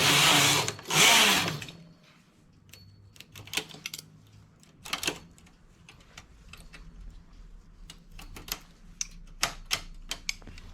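A domestic knitting machine carriage working a diamond pattern with cables, giving a run of sharp mechanical clacks and ratchety taps spread irregularly across the clip, fairly close and moderately loud, with a brief noisy swish near the start.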